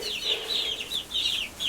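Young chickens cluck and peep in a chicken coop, a steady run of high, wavering calls repeating close by, moderately loud, with no voices.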